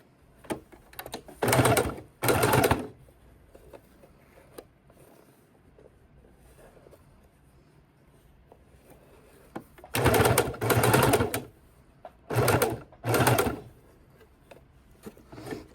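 A sewing machine stitches binding onto a baking dish cover in several bursts of fast, steady whirring, two early runs and three later ones, separated by quiet pauses with faint handling noise.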